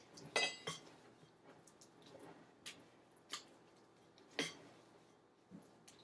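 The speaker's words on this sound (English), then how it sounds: "don't want to stir this up too much because you don't want it to get too doughy" Spoon stirring vegan blueberry pancake batter in a bowl, giving a few sharp clinks against the side and soft wet squishes, spaced irregularly and fairly quiet, with no talking.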